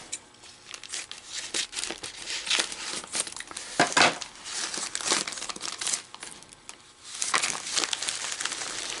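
A sealed plastic bag of gold paydirt is handled and squeezed close up, giving continuous crinkling and crunching plastic sounds with irregular louder rustles.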